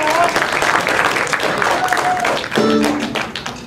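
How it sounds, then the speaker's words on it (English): A theatre crowd at a country music hayride claps and cheers for the performers, lively applause with a few whoops that fades as instrument tones begin to sound. "Y'all give all these people a great round of applause"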